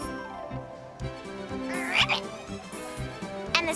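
A cartoon frog at a state fair croaks in repeated bursts over a busy animated-show soundtrack with music, fairly loud and close.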